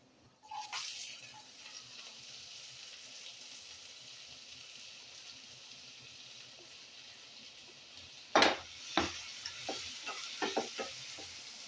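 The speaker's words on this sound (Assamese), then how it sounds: "এইবাৰ দিম মই কাটি ৰখা পিঁয়াজবিলাক।" Chopped onions dropped into a hot pan for a vegetarian dish, bringing a steady faint sizzle, then a sudden burst of crackling and a few scraping stirs near the end.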